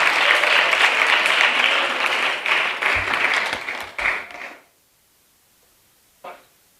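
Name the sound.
audience applause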